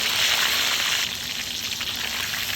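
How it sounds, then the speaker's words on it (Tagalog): Steady, loud sizzling of pompano fish steak frying in hot oil, a continuous crackling hiss with no voices. "siguraduhin lang po natin na crispy siya at pritong-prito"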